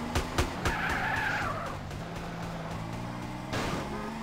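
Tires squeal in a long handbrake skid from a car in GTA San Andreas, with a steady engine drone beneath, a few sharp knocks at the start and another scrape near the end.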